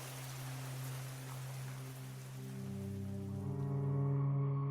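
Steady rain falls as a broad, even hiss, joined in the second half by low sustained droning tones that swell toward the end; no voices are heard.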